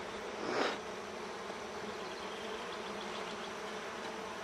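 Honeybees swarming around an open hive during an inspection on a hot day, a dense continuous buzz close by, with one louder bee passing near early on.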